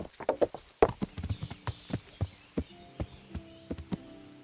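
Horse hooves clip-clopping in the medieval video game Kingdom Come: Deliverance, a steady, close rhythm of sharp hoof strikes, with faint tonal game music underneath and no talk.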